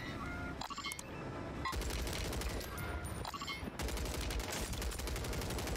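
Rapid bursts of COR 45 pistol fire in a Rebirth Island battle-royale video game, clustered shots in quick succession with short pauses between volleys, loud and sharp over busy game ambience.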